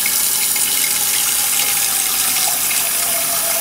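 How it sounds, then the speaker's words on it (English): Tap water pours steadily into a cooking pan, a loud continuous bright hiss and gush of filling water with no pauses, close up and alone. "you fill it up with water"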